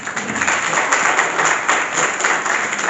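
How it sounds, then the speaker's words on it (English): A crowd applauds together at an evening public health lecture, giving a dense, steady wash of clapping that stays loud and even throughout, with no pauses. "Let's have a round of applause."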